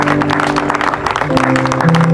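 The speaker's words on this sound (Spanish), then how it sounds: "denle un fuerte aplauso a Dios por esa guerrera" A church congregation applauds loudly and steadily throughout, the claps forming a dense wash that runs under sustained musical tones.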